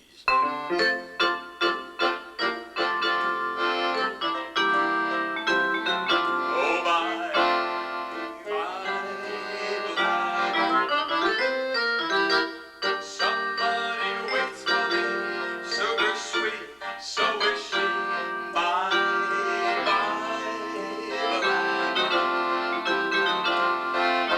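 Lively small-group jazz with accordion and band playing continuously, opening with punchy accented chords before settling into a full, busy melody.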